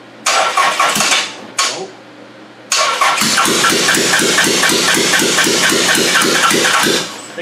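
An engine with a freshly shaved cylinder head cranks over in several loud, close bursts, stopping and restarting, then settles into a rapid rhythmic churning without catching; a person briefly exclaims.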